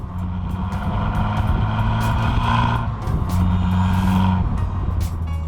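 A 2015 Abarth 595 Competizione, 180 bhp, revs its engine in a sustained drone that climbs in pitch and eases off, heard from inside the car without talk.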